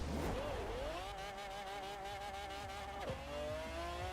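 An F1 GT car in Forza Horizon 4 accelerates hard through its gears, its engine note climbing steadily in a high, buzzing whine, then dropping sharply at a gear change before rising again, loud and close with no talking.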